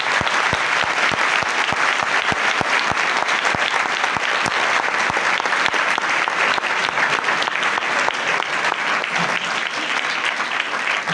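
A church congregation applauds at a Sunday Catholic Mass for the Feast of Christ the King, with steady dense clapping that fills the room continuously throughout, loud and close.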